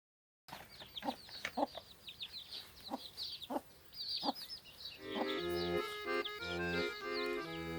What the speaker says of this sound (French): Je les gâte à mes poules.